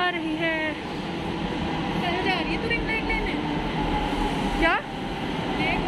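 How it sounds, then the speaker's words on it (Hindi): A metro train arrives at a station platform, a loud rumbling roar with high squealing brake and wheel tones, while people talk over it. "मेट्रो आ रही है"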